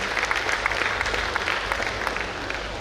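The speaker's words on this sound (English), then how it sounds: "Let's give a round of applause to all our incoming leaders, friends" Steady applause from a large audience at a Rotary district conference in Mangaluru, welcoming incoming leaders; a dense, even patter of many hands at moderate volume throughout, with no speech over it.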